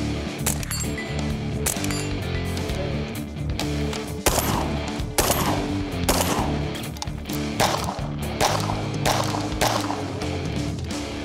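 Rapid, loud gunfire from 12 gauge shotguns and .22 rimfire rifles during a 3-gun speed shooting competition in Mexico; sharp shots come in quick bursts with short gaps, close by and with no talking.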